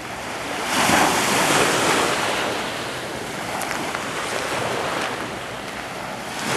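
Waves washing onto a sandy beach at Khanom, a continuous broad surf wash swelling and easing, mixed with wind buffeting the microphone, no voices.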